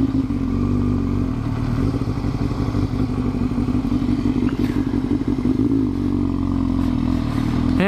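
Motorcycle cruising on the open road, a steady loud engine drone with continuous wind rumble and occasional clattering bumps throughout, no voices.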